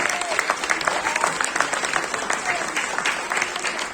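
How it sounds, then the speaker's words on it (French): An audience at a traditional song contest final claps in lively, dense applause, with a voice and crowd murmur mixed in under the clapping throughout. "vous mérite un gros applaudissement"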